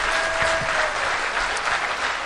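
Thick, even applause from a crowd at a live Hindi poetry gathering in Panipat, a short burst of loud continuous clapping with no pause.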